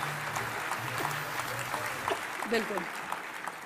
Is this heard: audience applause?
yes